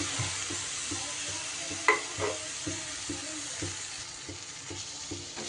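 Washed lentils tipped into a hot pan and stirred, a dry sizzle under repeated scraping strokes of a spoon, with a sharper clatter as they go in, close and without talk.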